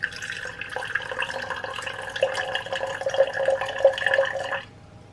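Water poured into a cup for matcha, about 70 ml, a close trickling and splashing stream lasting several seconds before it stops abruptly.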